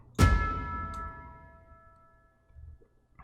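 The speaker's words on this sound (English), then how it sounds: "And then you have to add on your tubular bell." A single struck tubular bell in a cinematic instrumental rings out with a bright metallic attack and a long shimmering decay. A faint tick and a soft thump follow.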